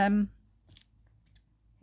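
Brief scissor snips cut through paper in a quiet room, a few short crisp clicks following a spoken word, while making notecards.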